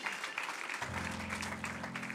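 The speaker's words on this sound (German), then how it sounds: "Let's give Jesus a big clap of praise." Church congregation applauding during a bilingual service, a broad wash of clapping joined midway by a sustained low organ or keyboard tone underneath.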